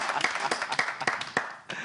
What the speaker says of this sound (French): Il faut applaudir pour ça.